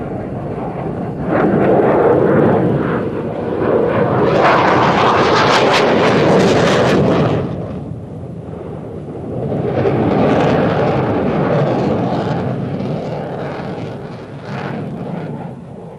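A Dassault Mirage 2000 delta-wing fighter jet roars past, a loud broadband rumble that swells, fades briefly, then builds again, heard without talk.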